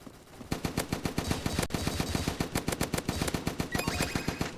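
Rapid bursts of automatic gunfire in the Roblox game Kivotos Battleground, dense repeated shots in a steady rhythm, moderately loud and continuous with no voices over it.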